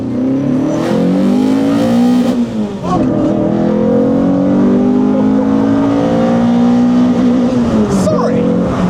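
A rebuilt project car's engine revs hard and close with heavy induction roar, rising and falling through several sweeps over nearly nine seconds while people talk over it.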